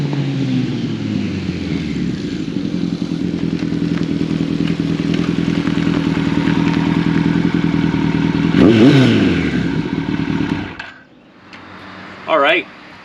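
Two Kawasaki KZ1000 motorcycles, a 1979 ST and a 1981 CSR, ride with a steady loud engine drone that rises in pitch as one passes near, then cuts out abruptly into quiet; a voice talks over the engines.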